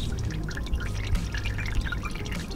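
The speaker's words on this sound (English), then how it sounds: "Turn it, oil start dripping out of it." Engine oil drips and trickles from the loosened drain plug of a 2007 Ford Focus during an oil change, a steady close patter of drops over continuous liquid noise.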